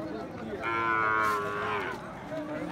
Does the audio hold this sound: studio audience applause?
no